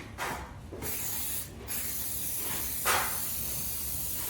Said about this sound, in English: I'm going to be spraying it first onto the wall and then onto the bead.